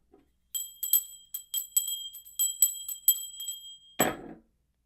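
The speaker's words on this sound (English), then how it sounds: "The bell of truth." A small bright bell rings in a rapid, irregular series of about a dozen sharp metallic dings, close and clear, ending with a brief louder clatter.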